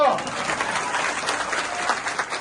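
Applause from a crowd at a political rally in Visavadar, a dense, steady wash of clapping that holds for the whole moment without a break.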